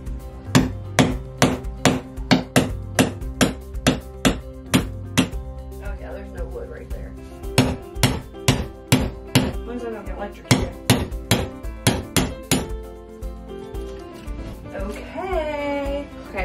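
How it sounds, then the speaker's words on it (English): Wall anchors hammered into a bathroom wall in a series of loud, sharp, ringing hammer strikes, fast runs of blows broken by brief pauses, with a voice talking briefly near the end. "Glad I noticed that before I started hammering it in here."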